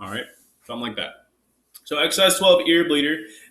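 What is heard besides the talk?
No distinct noise like a dog, phone or traffic.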